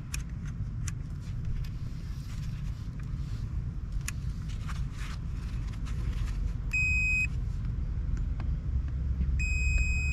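A multimeter on continuity gives two short, clean electronic beeps against the indicator lamp of a Vespa PX scooter, heard over a steady low background hum and a few faint clicks.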